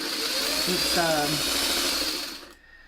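A sewing machine stitching posy quilt pieces together, a steady close whirring motor hum that runs for about two seconds and then stops, with a voice speaking over it.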